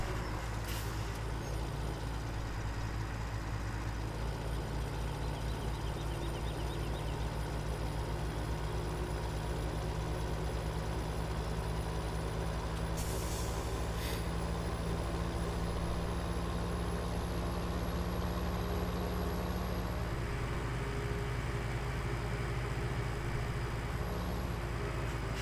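A truck in Farm Sim 17 on the Cherry Hills map, a low, steady diesel engine rumble with a faint hiss, at moderate distance and continuous, with no voices.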